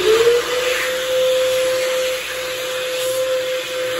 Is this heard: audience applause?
no